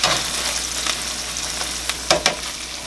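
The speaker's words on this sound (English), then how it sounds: "You should probably watch out for the oil. It's jumping." Canned asparagus frying in hot oil gives a steady, loud sizzle with sharp spattering pops, alone without talk.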